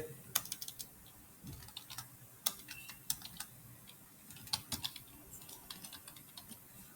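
A password is typed on a computer keyboard for a police ERP login, producing quiet, close, irregular key clicks in short bursts with brief pauses between them.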